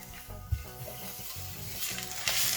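Spring roll vegetable filling seasoned with chicken powder stirred in a pan, a soft sizzle under scraping strokes with a brief clank near the start, fairly steady and close, no talking.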